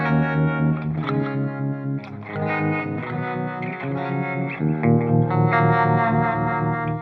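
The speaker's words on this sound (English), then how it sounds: "Now I've created a vintage delay, a plate reverb, a studio compression, and a harmonic tremolo." Electric guitar played through a Line 6 HX Effects unit set with vintage delay, plate reverb, studio compression and harmonic tremolo; loud sustained chords and notes with echoing tails and pulsing wobble, no talking.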